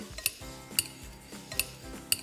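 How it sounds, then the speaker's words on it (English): A metal pastry cutter chops hard-boiled eggs in a bowl, giving four sharp clinking strikes at a steady, unhurried rhythm, close and fairly loud. "it's a pastry cutter. These actually come in really handy for chopping up eggs"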